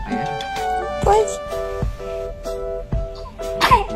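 A baby sneezes in several short, sharp bursts spread across a few seconds, playing over steady background music at moderate loudness.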